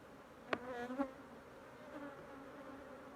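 Aggressive honey bees buzzing around an opened hive after a honey harvest, with two sharp close fly-by buzzes early on, then a faint, continuous background hum.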